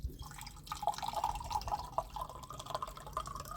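Water runs from a drinking-water tap on a hillside, a faint, steady trickle with light dripping splashes close by.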